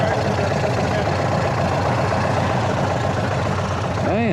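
A 2023 Indian Sport Chief motorcycle with its 116 V-twin sits idling nearby, a steady, deep rumbling engine note that holds without revving through the whole moment.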